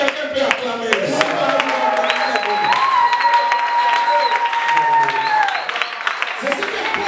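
Church congregation applauding during a French-language sermon, a steady wash of clapping and crowd noise filling the whole stretch, with a sustained vocal or musical tone riding over it.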